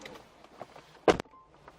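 A motorized pop-up navigation screen on an Audi A8 retracts into the dashboard as the engine is switched off, a short whirring mechanical burst of about a tenth of a second over a quiet cabin.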